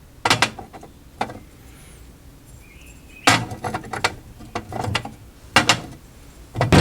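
Small metal parts and tiny screws are fitted back onto a Time Pilot arcade cabinet's coin door, giving sharp close clanks and ratcheting clicks in scattered clusters separated by quiet gaps.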